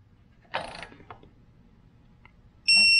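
A bolt being tightened on a Jeep Wrangler Rubicon JLU Teraflex lift kit, heard as a short metallic ratcheting burst, a few faint clicks, then a sharp ringing electronic tone at the end, close by and with no talk.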